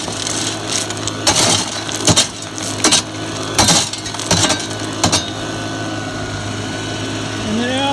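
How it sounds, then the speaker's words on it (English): A dry washer runs steadily as gold-bearing mountain gravel is fed down through its grizzly, with a continuous mechanical hum and repeated bursts of rattling, scraping material dropping through the screen, no talking. "the undersized goes running on through the dry washer ripple tray"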